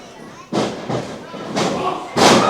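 Wrestlers in a pro wrestling ring land heavy thuds and slams, a series of about four loud impacts at irregular intervals, the last the strongest, over crowd noise.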